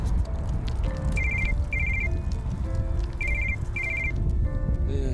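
A telephone rings in short repeated bursts of a bright electronic trill, four rings close together, over a loud, steady background rumble with no talk.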